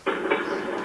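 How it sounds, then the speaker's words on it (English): A sound machine plays a train rolling over tracks, a steady rumbling rush with faint rhythmic clatter that starts abruptly and holds at even volume, with no voices. "Train going over train tracks."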